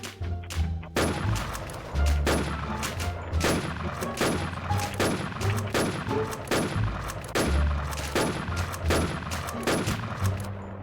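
Rapid bursts of gunfire fill the Warz YulgangZ shooter match, sharp shots cracking in a steady irregular rhythm with heavier thumps underneath, loud and close throughout with no talking.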